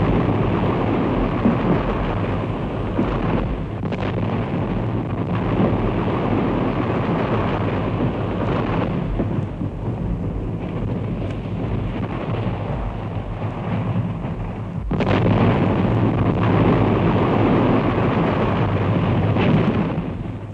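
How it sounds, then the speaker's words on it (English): Heavy First World War artillery fire and detonating explosive charges on a hillside battlefield, a loud continuous rumbling roar with deep booming swells and several sharp bursts, sustained throughout with no voices. "The noise from the artillery was deafening. The thunder from our charges was enormous."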